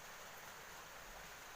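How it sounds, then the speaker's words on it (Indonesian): Rain patters steadily at night as an even, very faint hiss with no other sounds. "ditemani suara gemericik hujan"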